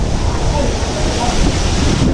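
Strong typhoon wind roars in hard, constant gusts buffeting the microphone, loud and close, with a voice faintly mixed into the rush.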